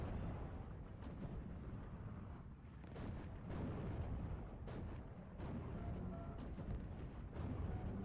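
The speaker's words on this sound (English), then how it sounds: "81mm mortar is going down" An 81mm mortar in a strategy video game fires and its rounds explode, a dense run of rumbling booms and sharp bursts layered over a continuous battle din with no pauses.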